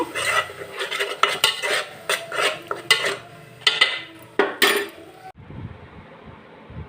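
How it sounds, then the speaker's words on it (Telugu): A spoon scrapes and clinks against a pan while masala paste is stirred and fried in oil, with irregular close clatters and bursts of stirring before the sound drops away near the end. "దీన్ని రెండు నిమిషాలు ఇలా కలుపుతా వేయిస్తాను"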